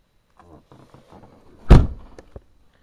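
A single solid thunk of a sagging Ford Mustang car door shutting, preceded by faint shuffling and rustling, with a small knock just after.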